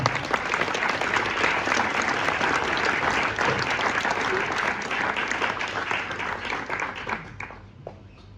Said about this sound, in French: Applaudissez-la, messieurs, dames.